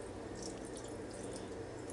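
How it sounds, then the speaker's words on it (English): Beef broth poured over a corned beef brisket in a pan, a soft, steady liquid splashing and trickling, close and quiet, with no talk. "I've got beef broth."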